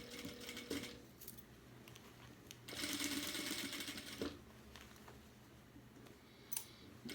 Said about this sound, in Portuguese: E vamos costurar a volta toda.